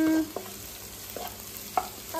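Garlic and green chillies are sautéed and stirred in a hot pan for paneer fried rice, giving a low sizzle under a few scraping clinks of the spoon, close and moderately loud, with no talking.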